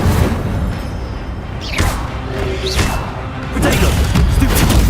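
Incendio fire spell cast in Hogwarts Legacy, a short whooshing burst of flame with soft thuds over steady game ambience, swelling louder near the end.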